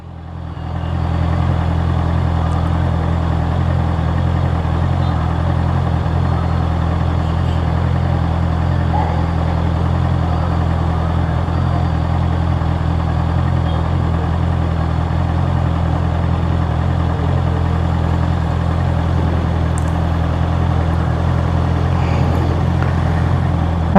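A Honda CBR650R motorcycle engine hums steadily at a constant, low, even drone while the bike is ridden, with no voices over it.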